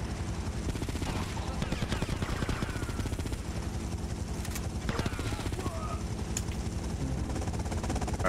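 Rapid bursts of automatic gunfire and scattered shots in Grand Theft Auto: Liberty City Stories, crackling continuously over a busy game soundscape with occasional sharper cracks.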